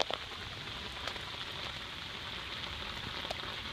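Heavy rain pours down on a street turned into a river, a dense, constant hiss of drops hitting water and surfaces, close and unbroken, with no one talking.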